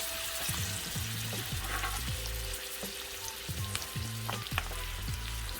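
Chicken drumsticks frying in a pan, a steady close sizzle with faint popping and crackle, heard alone without talk.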